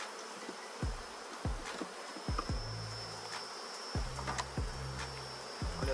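A populous honeybee swarm buzzes steadily during a hive split, a dense insect drone throughout with occasional louder bees passing close by and no voices.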